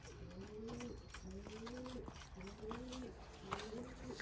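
A racing pigeon from Manisa coos in repeated rising-and-falling phrases, about four in a row, close by and fairly soft over faint background noise.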